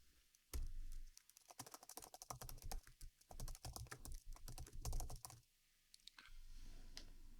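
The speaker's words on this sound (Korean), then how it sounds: "윈도우북의 줄바꿈은 키보드에 엔터를 누르면 됩니다" Keys clatter in quick irregular bursts on a Windows laptop computer keyboard, with firmer presses of the Enter key mixed in, close and crisp, then a short pause before a low steady hum at the end.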